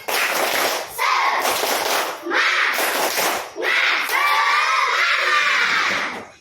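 A group of schoolchildren in a classroom performs a loud rhythmic clapping chant, with bursts of shouted voices and claps separated by brief pauses.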